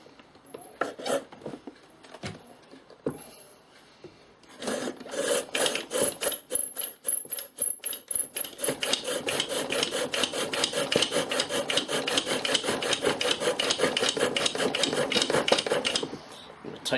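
Bow drill friction fire with a yucca spindle spun on a sotol base: a few tentative scrapes, then a long run of fast, rhythmic rasping strokes, close and steady, with no talk.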